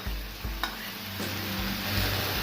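Sauces being stirred into a pan of vegetables and capsicum for kung pao chicken, a steady soft scraping and sizzle with a couple of sharper utensil knocks against the pan.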